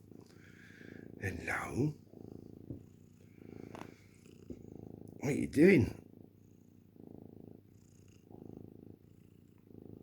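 A house cat purring in soft, steady rhythmic pulses close by, with a person speaking briefly and louder voice bursts over it.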